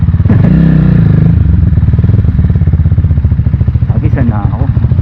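A Rusi Titan 250 fi motorcycle on a test ride, its engine thrumming steadily with a dense low rumble and rapid rhythmic pulsing from start to finish, close and loud, with a rider's voice speaking over it.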